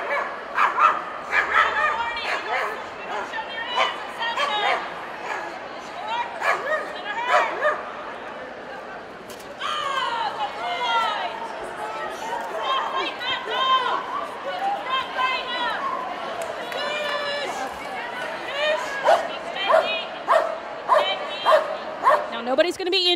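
A police dog barks and yips repeatedly in loud, rapid bursts during an outdoor obedience and bite demonstration at an awareness expo, with a crowd murmuring and people talking throughout.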